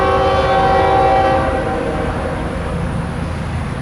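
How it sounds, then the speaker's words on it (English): A Union Pacific train approaching a crossing at Texas A&M University in College Station, Texas, heard as a loud, steady rumble with a sustained horn tone, near and continuous without talk. "here comes the train"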